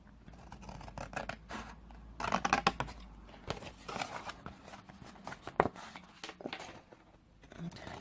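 Scissors snip through a sheet of acetate along score lines while an acetate gift box is being made, a run of close, crisp cuts and scratchy rustles with brief pauses, quiet and steady.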